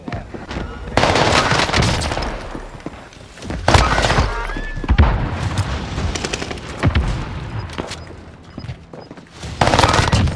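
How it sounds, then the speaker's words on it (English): Rapid SMG bursts from an Armaguerra in Warzone, loud clustered volleys of automatic fire repeating across the clip with short gaps between strings, and a voice talking over parts of it. "Next up was an SMG that was so good, I got to the 43rd place worldwide in the World Series of Warzone qualifier"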